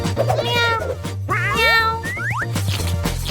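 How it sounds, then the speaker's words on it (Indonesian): Several loud, close cat meows with rising and falling pitch, one after another over a steady low hum, in a comedy kitchen scene about decorating pizza. "Oke, Oscar si kucing"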